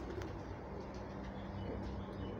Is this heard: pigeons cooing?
yes